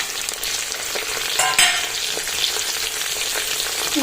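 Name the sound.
frying and stirring tomato and cut mushrooms for biryani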